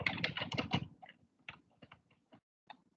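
Computer keyboard being typed on at close range, a quick flurry of crisp key clicks followed by sparser, softer isolated taps trailing off.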